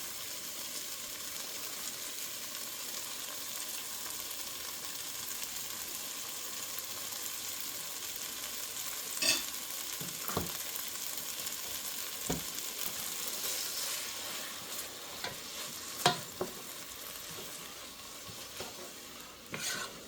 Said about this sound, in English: Give it a good stir around. We'll just leave that to brown up.